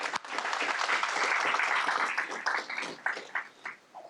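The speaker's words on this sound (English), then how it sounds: "Let's give her a big clap." Audience clapping at a school district board meeting as a department head is welcomed forward, dense and fairly close at first, then thinning into scattered individual claps toward the end.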